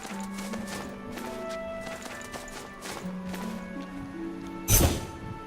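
Horse galloping in the video game Death's Gambit: steady hoofbeats over sustained background music tones, ending with a sudden loud crash-like impact near the end.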